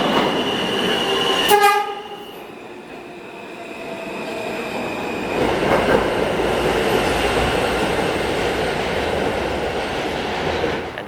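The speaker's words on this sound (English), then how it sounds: "Now it's time for a transfer to the F train." A New York City subway train rumbles loudly, with a short horn blast early on, then a steady rushing roar of wheels and motors that builds and holds.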